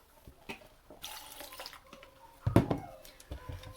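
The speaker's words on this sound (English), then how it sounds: "I'm just pouring some cold water in here." Cold water is poured into a container for keto cold brew coffee, a quiet trickling and splashing that builds into louder gurgling bursts near the end.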